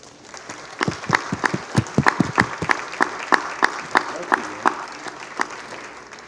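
A crowd at an awards dinner breaks into applause, steady clapping swelling to a dense, lively patter and holding for several seconds.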